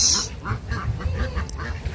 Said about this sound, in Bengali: এই যে হাঁসগুলো দেখেন